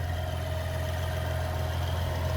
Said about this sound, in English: So there's that Hurricane twin turbo inline 6.